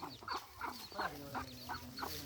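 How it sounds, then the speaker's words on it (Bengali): A chicken clucks in a rhythmic series of short calls near a gourd patch on a village homestead, faint and steady with little else around. "ও দোকা মুরগি,"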